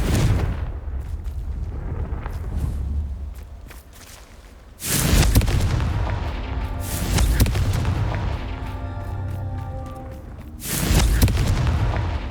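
Confringo spell blasts in Hogwarts Legacy gameplay go off as several heavy booming explosions, each loud and close, with a rumbling tail between them.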